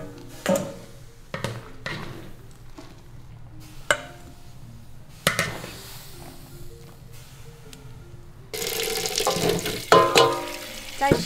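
Beef brisket is rinsed under running water in a home kitchen, with intermittent splashing and clatter of meat and bowl, then a louder rush of tap water toward the end, close by.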